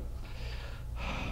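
A voice imitates obstructive sleep apnea breathing: a short rough snorting inhale, a brief break, then a second harsher gasping snort, close and fairly loud.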